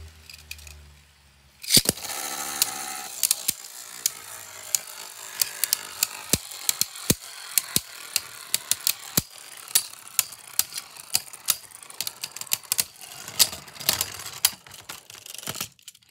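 Beyblade Burst tops Chain Kerbeus and Perfect Phoenix launch with a sharp crack and clash in a stadium. A steady whirring spin follows, broken by many quick clicking impacts as they collide again and again.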